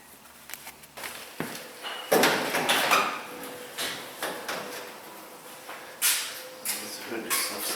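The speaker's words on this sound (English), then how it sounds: "This hood just lifts up." The hood of a 1936 Chevrolet Master Coupe is lifted, with a series of close metallic clunks, knocks and creaks at irregular intervals.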